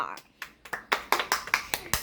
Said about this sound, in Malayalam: അപ്പൊ എല്ലാവരും ഒന്ന് ക്ലാപ്പ് കൊടുക്കുക